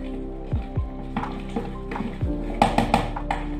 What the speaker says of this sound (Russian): Все хорошо перемешиваю ложкой.